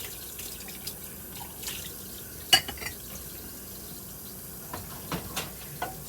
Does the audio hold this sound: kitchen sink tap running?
yes